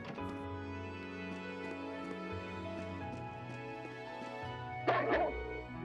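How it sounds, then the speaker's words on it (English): A dog barks in the video game Trails of Cold Steel 2, several yips and barks over steady game music, with a louder burst of barking near the end. "Oh, woof woof, grr woof woof."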